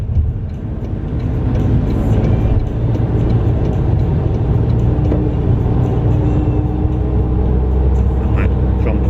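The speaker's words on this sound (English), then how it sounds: "we are back on the freeway" Car cruising on a freeway, a steady low road and engine rumble with tire noise filling the whole stretch, heard from inside the cabin with no clear talking.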